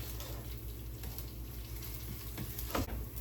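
Breadcrumbs soaking up oil and frying in a pan, a constant close sizzle with light stirring scrapes and a brief louder clatter near the end, no voices.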